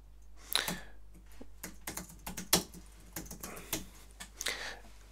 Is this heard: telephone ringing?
no